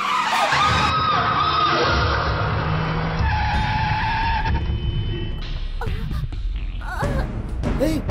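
A car brakes hard and skids with a long tire screech, loud and close, fading into road noise and a few later squeals.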